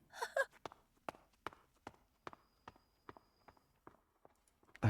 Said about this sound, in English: I heard footsteps somewhere deep in my head.